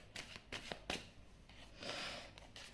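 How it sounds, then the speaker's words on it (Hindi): Tarot cards being shuffled by hand in a quiet room, a run of soft riffling bursts and papery slaps, close and moderately loud, with no talking over it. "और एक कार्ड निकाल के देख लेते हैं"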